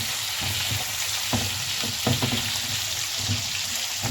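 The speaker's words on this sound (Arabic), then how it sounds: "اول حاجه هعملها دلوقتي هنزل الفلفل، ياخد التشويح والريحه كده" Peppers fry in hot rendered fat, a steady close sizzle with a few sharper crackles and stirring scrapes scattered through.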